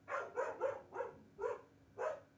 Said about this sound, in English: do you guys hear a dog barking?